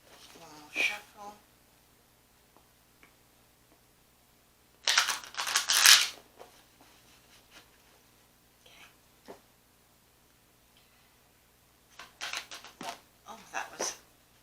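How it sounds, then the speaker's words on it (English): Tarot cards being shuffled in short, crisp bursts of riffling, one near the start, a louder one in the middle and several toward the end, with quiet gaps and occasional soft voice. "One more shuffle."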